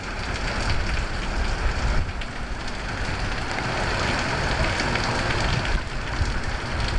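Steady rain falls in a dense, even hiss, loud and close, continuing without a break and with no voices.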